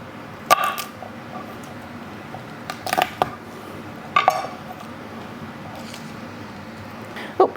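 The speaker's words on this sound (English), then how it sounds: "I do smash the garlic so it can release some of its juices" Garlic cloves get smashed on a hard kitchen surface in four sharp, separate knocks spread across a quiet stretch, close and fairly loud.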